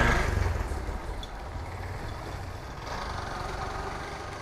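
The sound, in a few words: motorbike engine idling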